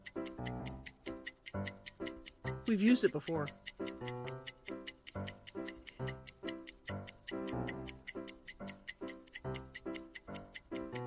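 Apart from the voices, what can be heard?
ticking clock voting timer music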